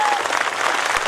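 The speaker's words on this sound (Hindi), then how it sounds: "बजाइए खुद के लिए जोर से जरा" An audience at an Alvida Tanav Shivir gathering in Darbhanga, Bihar claps loudly and steadily, a dense continuous wash of applause from many hands.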